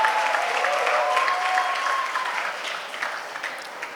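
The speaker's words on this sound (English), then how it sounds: "Everyone give a warm round of applause." Warm applause from guests at a wedding reception, a dense burst of clapping with a few voices that gradually thins over four seconds.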